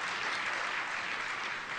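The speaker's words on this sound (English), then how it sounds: "judging by the applause" Keynote audience applause at a tech developer conference, a dense, steady wash of clapping from a large crowd, sustained and fairly even throughout.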